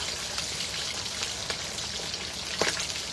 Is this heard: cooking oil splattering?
yes